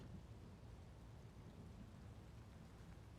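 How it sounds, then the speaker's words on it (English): Rain falling in XCOM 2, a faint, steady hiss of rainfall with low rumbling underneath. The sound is even and continuous, and no voices are heard. "And it's raining."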